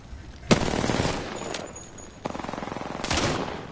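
Bursts of rapid automatic gunfire in the video game Apex Legends, two or three loud volleys of quick repeated shots separated by short pauses, with no talking over them.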